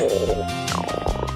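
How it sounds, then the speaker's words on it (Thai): A cartoon elephant's hungry stomach growling, a short burst of warbling, gurgling rumbles over light background music. "ท้องร้องแล้วเนี่ย"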